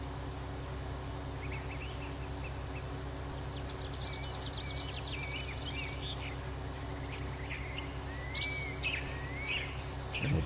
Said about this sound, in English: The birds are loud.